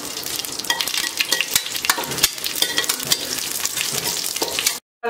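Steady, crackling sizzle of spices such as cloves frying in hot ghee, dense and continuous with small pops throughout, close up, no voices.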